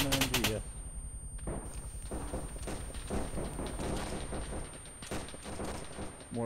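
Sustained machine gun fire in a World War I era battle video game, rapid bursts and scattered shots layered with distant gunfire, with people talking over the din.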